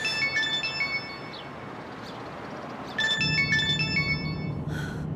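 A telephone ringtone plays a repeating electronic melody, rising in bursts, pausing briefly, then resuming louder over a low background hum; no one talks during it.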